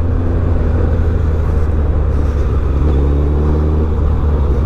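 A Suzuki Hayabusa superbike rumbles steadily while being ridden, a loud continuous low engine drone with a faint rising tone as it pulls, and no talk over it.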